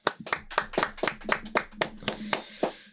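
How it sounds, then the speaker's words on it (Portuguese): Audience clapping at a spiritual leadership talk, with about a dozen distinct, fairly slow hand claps sounding close and separate rather than blending into a roar. "Uma salva de palmas."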